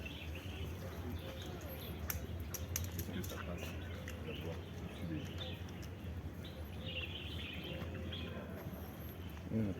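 Birds chirping in the Jardin Majorelle garden in Marrakesh, scattered small calls and tweets rising over a steady outdoor hum with distant background activity.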